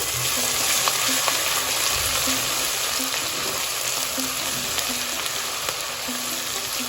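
Steady hiss and crackle of garlic and ginger frying in a hot pan, with faint clinks of stirring now and then.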